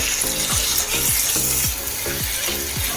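Dates pickle cooking in a pan, a steady frying sizzle under repeated stirring scrapes that come in a regular rhythm several times per second, close and continuous with no talk.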